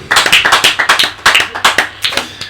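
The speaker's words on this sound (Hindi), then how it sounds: "आप शायद ताली बजाना भूल गए।" A congregation bursts into clapping, sharp hand claps landing in quick uneven bursts, loud and close, with a brief lull near the middle before the rhythm picks up again.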